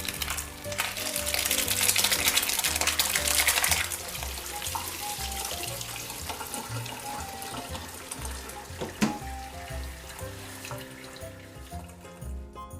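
Hot whey pouring and draining off fresh ricotta, a loud running gush of liquid that eases into a softer trickle with a few knocks, and no talking.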